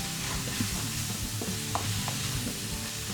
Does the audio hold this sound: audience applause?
no